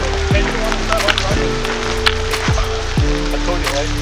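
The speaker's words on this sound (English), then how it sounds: "Bruh, it's hail." Hail falling on a backpacking trail in the Yosemite wilderness, with a dense, scattered patter of small hits heard under someone's voice.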